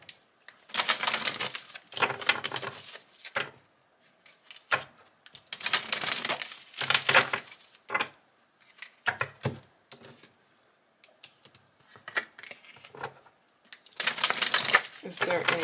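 Tarot cards are shuffled and drawn in repeated bursts of crisp riffling and papery slapping, separated by short quiet gaps.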